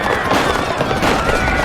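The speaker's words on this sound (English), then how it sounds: "I raised my voice over the sound of gunfire." Gunfire rattles in a Piofiore visual novel scene, a dense, loud burst of crackling shots filling the short stretch with no pause.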